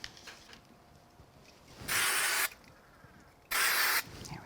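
Spray glue from an aerosol can hisses in two short bursts of about half a second each, separated by a pause, used to mount die-cut card pieces at a craft desk; the bursts sound close against a quiet room.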